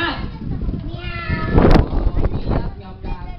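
Group of children at a classroom animal-sounds game imitating a cat, calling out loud overlapping meows mixed with chatter, one sharp burst in the middle.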